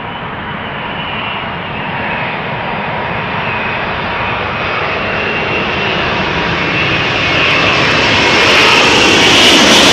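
A jet airliner arriving at Amsterdam Schiphol Airport roars close by in a steady, broad engine rush that swells gradually louder over the whole stretch, with no voices.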